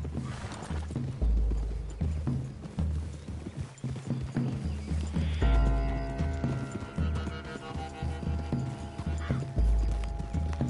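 Several horses trot through woodland in Red Dead Redemption 2, a steady clip-clop of hooves with an occasional whinny, set against a constant musical score and an ambient game soundscape.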